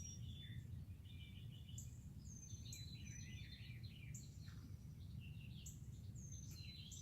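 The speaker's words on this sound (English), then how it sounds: "we can hear the birds waking up this morning" Faint bird chirps and short tweets come from a distance at sunrise by Tellico Lake, Tennessee, over a steady low rumble of outdoor background noise.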